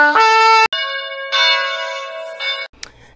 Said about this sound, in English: ring the bell so we may advance before the throne